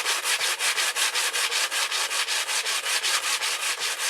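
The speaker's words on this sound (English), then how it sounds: "All I got to do is take a piece of sandpaper and go like this." Sandpaper is rubbed rapidly back and forth over the glued square-bound spine of a paper magazine, making steady close scratchy strokes, roughly four or five per second, with no voices.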